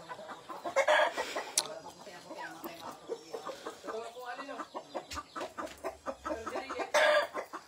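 Chickens on a rural farm cluck repeatedly in short, close bursts, with a rooster-like call among them, while people talk nearby.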